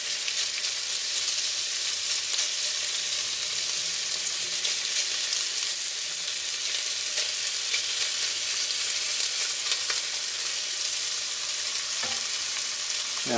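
Sausage thrown into a hot pan for Louisiana red beans and rice, crackling and sizzling loudly and steadily for a long stretch, with a few faint scrapes near the end.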